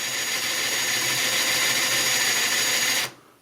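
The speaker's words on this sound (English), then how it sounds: "We're drilling our holes in the face of the board." A power drill whines steadily at high speed for about three seconds, drilling holes into the face of a wooden board, close and loud, then cuts off abruptly into quiet.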